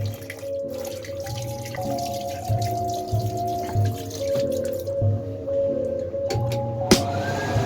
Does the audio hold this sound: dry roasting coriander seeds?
no